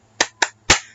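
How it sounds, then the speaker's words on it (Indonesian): Three sharp claps in a rhythmic pattern, two quick and one slightly delayed and louder, from a class doing the Indonesian tepuk semangat spirit clap during a home-learning lesson, clear and close with no talking. "Tepuk semangat."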